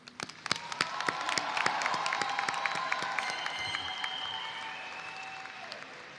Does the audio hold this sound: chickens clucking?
no